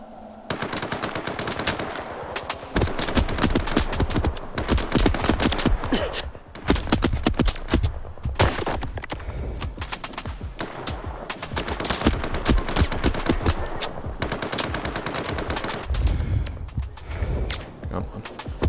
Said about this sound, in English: Haven't tried out my new sniper rifle anyway